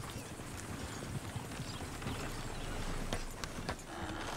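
Horse hooves clip-clop in the video game Red Dead Redemption 2, a continuous trotting patter over a rumbling background, moderately close and without talk.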